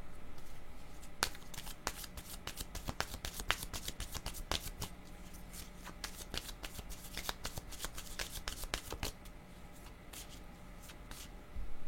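Playing cards being shuffled for a tarot-style reading, a long run of crisp riffling flicks and snaps up close, steady for about ten seconds with brief pauses and no talk.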